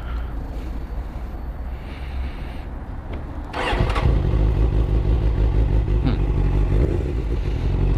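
A 2002 Suzuki GSX-R 750 motorcycle, which has a few running problems, starts up. Its engine catches a few seconds in and settles into a loud, close, steady idle rumble.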